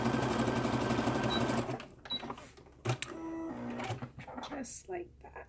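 A sewing machine stitches elastic in a rapid, continuous whir for about two seconds, then stops; a person talks afterward over a few light clicks and handling noises.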